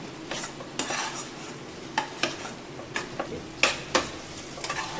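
Chili powder and turmeric sizzle and fry in a pan while a utensil scrapes and stirs, with several sharp metallic clinks against the pan.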